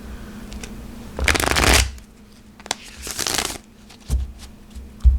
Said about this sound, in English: not too bad on the shuffle